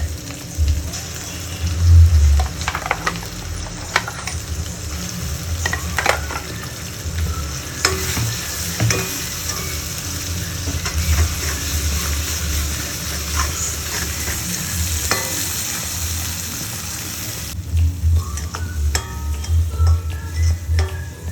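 Ground masala fries in a pan for fish curry while being stirred, a continuous close sizzle with scraping stir strokes and occasional clatters, no talk.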